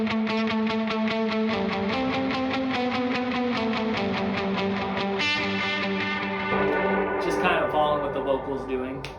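An electric guitar plays a single-note melody line with reverb and delay, clear sustained notes repeating with echo trails, then strummed chord shapes ringing out toward the end.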